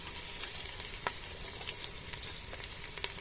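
Ginger and cumin frying in hot oil for a masoor-style lentil dal give a soft, crackling sizzle with scattered sharp pops. The sound is steady and fairly quiet.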